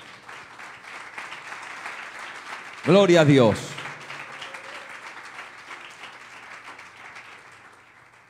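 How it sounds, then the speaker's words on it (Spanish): A church congregation claps steadily throughout, with a loud burst of voices shouting praise around the middle before the clapping carries on beneath a preacher's speech. "Dale un fuerte aplauso al Señor."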